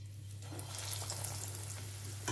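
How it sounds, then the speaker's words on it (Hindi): Paneer pakoras fry in hot oil with a steady, hissing sizzle and a faint low hum beneath, close and fairly quiet, with no talking. "और एक एक करके सारा पकौड़ा तलकर निकाल लेना है।"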